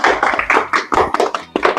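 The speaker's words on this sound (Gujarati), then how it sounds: "તાળીઓ પાડો શીખરો, તાળીઓ પાડો" Clapping in bursts at a Gujarati comedy magic show, sharp close hand claps in quick uneven groups with short pauses between, fairly loud with no talk.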